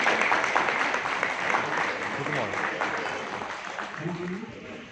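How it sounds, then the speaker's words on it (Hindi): Applause from the audience greeting an award recipient at an education society ceremony, a steady, fairly loud wash of many hands that slowly tapers, with voices talking underneath toward the end. "तालियों से स्वागत कीजिए।"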